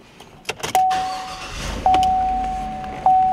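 A Chevrolet Silverado starts up: keys rattle, the engine catches with a brief low rumble, and a steady electronic warning chime beeps three times over the quiet idle.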